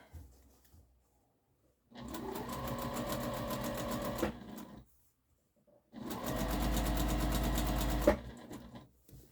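A sewing machine stitches a large harvesting apron in two steady bursts of rapid mechanical clatter, each about two seconds long, with quiet pauses before, between and after.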